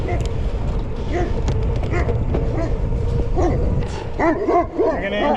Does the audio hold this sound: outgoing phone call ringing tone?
no